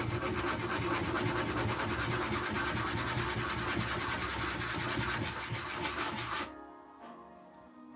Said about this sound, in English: So I'll just give these a quick sand, just to get them flat.